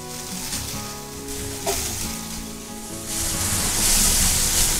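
Butter sizzles steadily in a home pan while pizza topping, with minced beef, cooks, a broad frying hiss that swells louder toward the end, with no talking.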